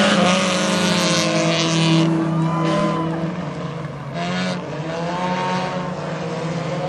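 Hornet-class race cars roar around a speedway oval in a dense, continuous engine drone. Pitches rise and fall as the cars pass, and wind rumbles on the microphone throughout.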